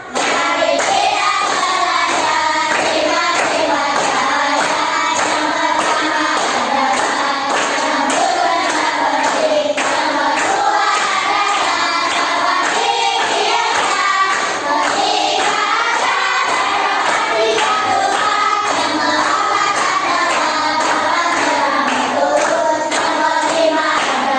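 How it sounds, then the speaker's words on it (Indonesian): A school class claps along in steady rhythm while singing a song together, children's voices and hand claps mixed closely and loudly throughout, continuous for over twenty seconds. "Kita nyanyikan bersama dengan tepuk tangan."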